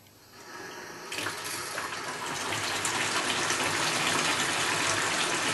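Water gushes at full flow through a compression fitting on a burst-prevention valve, a loud steady rush that swells after about a second and continues unbroken to the end.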